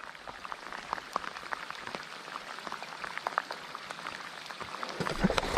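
Steady rain patters on a surface by a river with dense scattered drops, moderately faint and continuous, swelling slightly toward the end, no voices.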